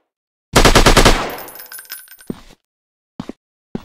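A sniper shooting video game fires a loud, rapid burst of gunfire that rings off with metallic clinking, followed by a few short, sharp clicks and knocks after a brief pause.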